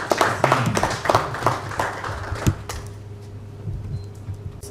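Round of applause from an audience at a technology forum, dense clapping close by for a couple of seconds before fading into scattered claps and room noise.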